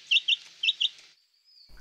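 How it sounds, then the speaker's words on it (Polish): A chicken hen gives four short, high, bright chirps in two quick pairs. The calls are close and clear, then fade into near silence. "Ho, ho, oto i kura."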